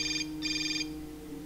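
A cell phone in the video game Hotline Miami 2 gives two quick trilling electronic rings over a low ambient hum, close and fairly clear.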